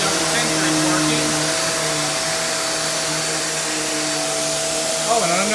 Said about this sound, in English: the vacuum's propelling itself